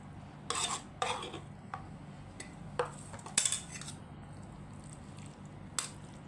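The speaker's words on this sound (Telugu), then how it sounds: "ఇప్పుడు చింతపండు గుజ్జు ఇందులో కలిపేసుకుందాం కొంచెం కొంచెంగా వేసుకొని కలుపుకోవాలి" Cooled rice being mixed with tamarind pulp for temple-style pulihora, a ladle scraping and clinking against the pot in scattered sharp strokes over a low steady background hum, with no talking.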